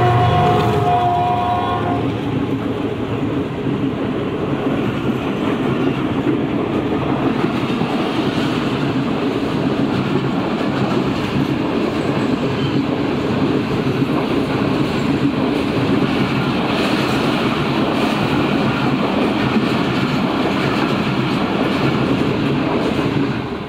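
A Shalimar Express train passes at a railway station with a loud, continuous rumble and rattle of wagons that lasts throughout. A brief horn-like tone sounds near the start.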